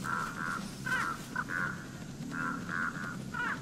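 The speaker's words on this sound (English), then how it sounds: "It's the freaking crows, man." Crows in the Dead by Daylight video game caw repeatedly in short harsh calls, moderately loud over a constant noisy ambient background.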